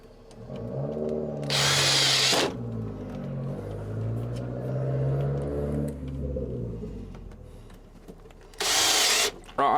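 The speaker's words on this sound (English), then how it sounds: "And we're just gonna screw them in." A power drill drives screws into an RV cabinet. It whirs and revs close by in short bursts, with a sustained motor drone between two sharp high-pitched spins.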